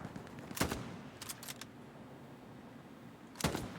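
Machine gun fire in a video game, heard as a few faint short bursts at a distance: one quick burst, a small cluster of shots, then another burst after a pause, alone without talk.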